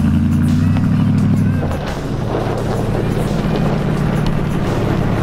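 A snowmobile stuck in snow revs its engine, a loud droning whine that holds high and then drops to a lower rumble partway through, heard up close, with people talking over it.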